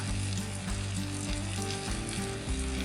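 Potatoes sizzle steadily on a hot griddle with melted butter, a dense, even frying hiss with a low crackle throughout, close and loud, with no talking.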